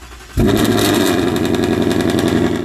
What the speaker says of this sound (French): Et voilà, ton moteur tourne.